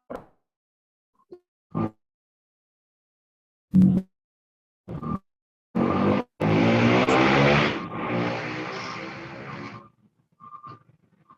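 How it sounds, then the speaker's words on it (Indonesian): A motorcycle passes by outside during an online school meeting, its engine rising into a loud, broad roar over a few seconds and then fading away, with scattered short bumps and clicks before it and faint noises after. "Itu ada suara motor lewat itu"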